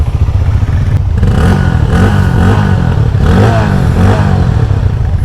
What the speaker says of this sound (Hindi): ये आइडल है, ये हल्का सा रैप करा।